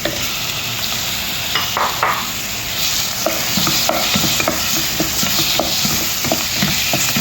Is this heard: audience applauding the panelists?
no